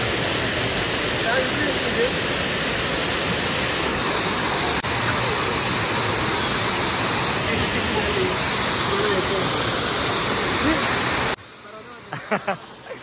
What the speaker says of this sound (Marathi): हा आमच्या रिडगर गावातील पाण्याचा बंधारा, खूप सुंदर असा बंधारा या ठिकाणी बांधलेला आहे